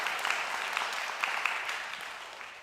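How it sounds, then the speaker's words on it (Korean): Applause from a church young-adult congregation for the facilities team, a steady wash of clapping with a few sharper claps standing out, moderately faint and fading slightly at the end. "우리 시설팀 박수 한번 쳐줄까요?"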